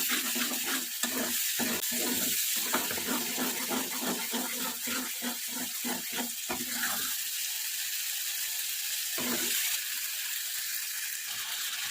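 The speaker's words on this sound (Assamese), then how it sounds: "মছলাখিনিৰ পৰা তেল ওলোৱালৈকে মই ভাজি আছোঁ।" Steady, continuous sizzling of masala spices frying in hot oil with salt, with scraping stirring strokes in a quick rhythm for the first several seconds, then the sizzle alone.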